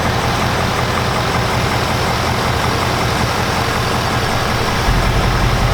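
A 2019 Ford Mustang GT idles steadily with a constant low rumble that holds even throughout, close and alone with no voices.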